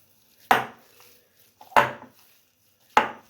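Chicken mixture mixed with a tablespoon of oil in a bowl gives three separate, sharp knocks of a utensil against the bowl, close and fairly loud, with quiet gaps between them.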